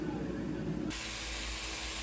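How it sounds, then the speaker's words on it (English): Marinated steak pieces sizzle in a hot pan, a steady close hiss that jumps louder and brighter partway through as more meat hits the surface. "Listen to that sizzle."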